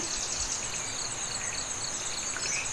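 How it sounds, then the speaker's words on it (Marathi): High, thin birdcalls chirp repeatedly in early morning over wet ground, over a constant outdoor hum, fairly faint and at a distance. "पक्ष्यांचा आवाज."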